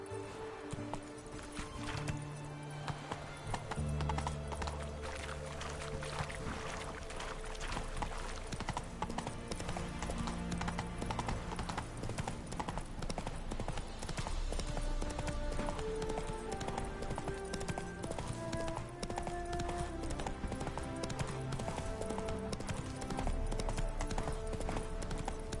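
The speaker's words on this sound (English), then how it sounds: "Run, Roach." Horse hooves galloping in The Witcher 3 video game, a fast steady clip-clop rhythm running throughout, mixed with game music and occasional whinnies.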